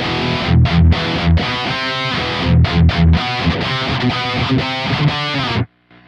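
An electric guitar played through a Kemper amp using the Chop Tones Rectum Fryer profile, heavily distorted, with loud chugging palm-muted riffs and choppy stops before ringing out and cutting to silence.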